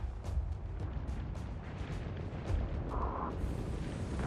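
Spaceship weapons fire in the space strategy game Homeworld 3, a dense, low rumbling barrage of overlapping bursts and distant booms that sounds fairly quiet and unbroken throughout.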